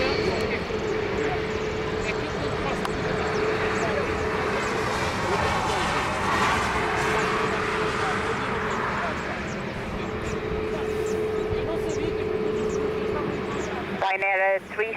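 Aircraft engines roar steadily at Lisbon Airport, a loud sustained drone with a tonal hum persisting throughout, ending with a brief clattering burst near the close; voices are mixed in.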